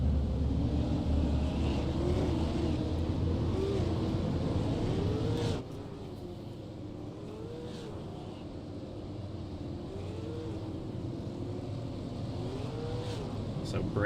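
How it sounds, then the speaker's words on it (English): Race car engines from the ASRL Barry Elvis P&F Super Series at The Rock, a steady droning roar of several engines idling and revving ahead of the formation lap, with an announcer talking over it. "as they fire their engines"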